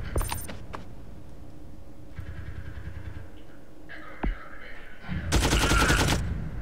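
Rifle gunfire in the video game Frontline Tactics during a seaside landing: a sharp rapid burst at the start, then a louder, longer burst near the end, with quieter game ambience between.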